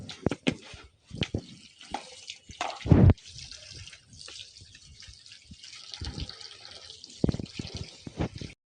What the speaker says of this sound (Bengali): এই মাছটা আমি ধুয়ে নেবো, তারপরে রান্না করবো।